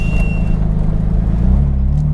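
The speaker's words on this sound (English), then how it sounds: "if you can hear the whistle, that's a brake whistle." A thin, high whistle from the brakes of an R32 Skyline drift car sounds for about half a second over the car's close, rumbling engine, which then keeps running alone.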